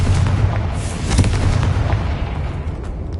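A Confringo blasting spell explodes in Hogwarts Legacy, giving a loud, dense booming burst with heavy low rumble that holds steady through the moment, several blasts blending together with no speech.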